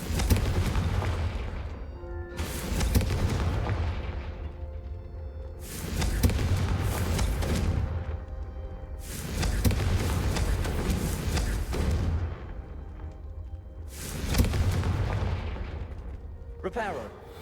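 Confringo blasting spells in Hogwarts Legacy set off a series of heavy, booming explosions about every four seconds. Each blast rumbles and decays before the next, loud and close, with game dialogue in between.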